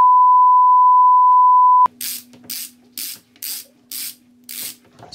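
A ratchet undoes stuck screws during a boat windlass repair, making six evenly spaced bursts of rapid clicking. A steady tone plays at first and a faint hum stays under the clicks.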